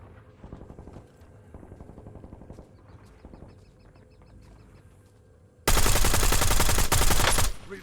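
Bursts of automatic gunfire crackle in the Warzone battle royale. Short rapid volleys sound at a moderate distance, then one much louder, sustained burst of close fire comes near the end before it cuts off.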